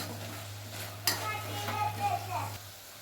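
Chicken biryani masala with turmeric, chilli powder, coriander powder and garam masala being stirred in a pan, a steady scraping and soft sizzle under a low constant hum, with brief clatters of the spoon against the pan.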